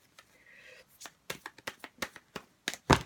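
Tarot cards being shuffled by hand, a soft riffle followed by a series of crisp slapping taps as cards are cut and squared, close and quiet, with a voice speaking around them.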